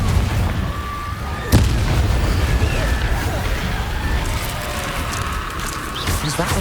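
A Confringo fire spell in the Hogwarts Legacy video game goes off as a single sharp boom, followed by rumbling explosive noise and game effects, with a voice speaking over it.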